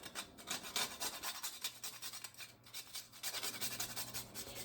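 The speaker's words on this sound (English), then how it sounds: "I like to use the whole nutmegs and then grate it" Whole nutmeg rasped against a grater in a kitchen, a steady run of close, dry scraping strokes with one short pause partway through.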